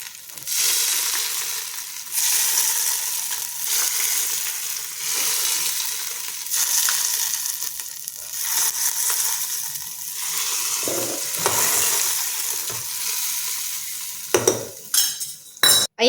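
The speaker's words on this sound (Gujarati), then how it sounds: "આપણે વઘાર રેડીશું" Hot oil tempering poured over Gujarati handvo batter in a cooker hisses and sizzles at close range, with steady frying crackle and some stirring and clinking of utensils before it cuts off sharply.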